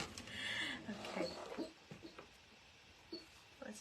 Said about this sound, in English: He's having a dream. Poor baby. Trying to bark in his sleep.